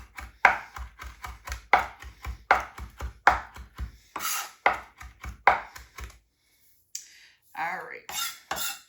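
Knife chopping cucumber for salad on a cutting board in quick, steady rhythmic strokes, close and crisp, with a short pause and a few scraping sounds near the end.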